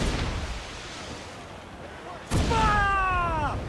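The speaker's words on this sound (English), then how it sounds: "Damn that Captain Vane! He's unloading everything he has! He'll sink it if he's not careful" Ship cannons fire in Assassin's Creed IV Black Flag: one loud, sudden boom partway through breaks a rumbling sea-battle background, and a tonal effect rings out after it.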